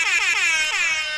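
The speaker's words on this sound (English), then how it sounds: "Hold on, I got an air horn." A loud air horn blast plays from a phone app, a harsh brassy blare with a brief dip and re-sounding, filling about a second with no talk.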